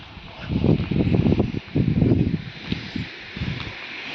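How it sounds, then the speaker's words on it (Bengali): Strong wind buffets a rooftop in Bengaluru, loud gusts rumbling and roaring across the microphone in uneven surges that ease off toward the end. "একদম এত জোরে জোরে হাওয়া দেয়।"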